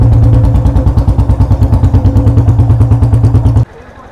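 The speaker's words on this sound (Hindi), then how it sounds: "छै तऽ दोसर टोल में, लेकिन मोटरसाइकिल से जेबै" A motorcycle engine runs loud and close with a steady, rapid thumping exhaust pulse, then cuts off abruptly near the end, leaving a faint background.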